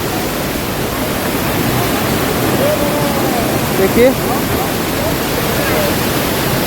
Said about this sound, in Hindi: देख पा रहे, बहुत सुंदर झरना है।